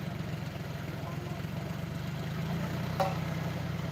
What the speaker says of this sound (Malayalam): ട്രാക്ടർ വന്നിട്ടുണ്ട്